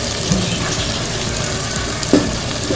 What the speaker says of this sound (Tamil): அதில் இதெல்லாம் வந்து நல்லா எண்ணெயிலே வதங்கணும்.